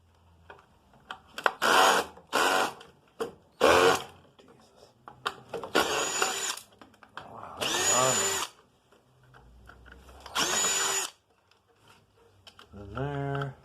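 A power drill runs in short repeated bursts, whining as it backs small Phillips-head screws out of a little box, with quiet pauses in between. It is fairly close, and a faint low voice comes in near the end.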